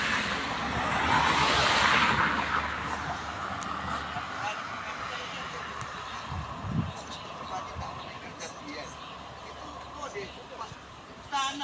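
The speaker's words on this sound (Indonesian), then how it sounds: "kumpulan truk tangki melintas tanjakan Bukit Kodok" A convoy of tanker trucks climbing the Bukit Kodok hill road, heard as a steady, loud engine rumble and road noise with a swell early on. A person talks over the traffic.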